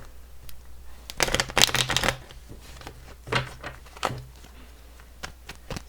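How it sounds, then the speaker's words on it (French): Tarot cards being shuffled up close, in several quick riffling bursts of crisp, papery flutter separated by short pauses, with no talking. "Je vais bien brasser les cartes."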